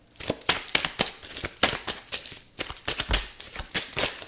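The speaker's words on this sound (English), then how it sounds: "So let's just shuffle." Tarot cards shuffled by hand in a steady run of crisp riffling slaps and flicks, loud and close, with no talk.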